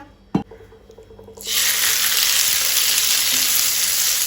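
Onion, green chilli and ginger-garlic paste hitting hot oil in a pan for a squid chilli fry, a sharp knock followed by a sudden, loud, steady hiss of frying that continues to the end.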